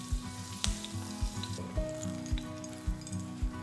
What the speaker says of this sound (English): Ensure you heat the oil until the garlic starts to turn golden, but be careful not to let it burn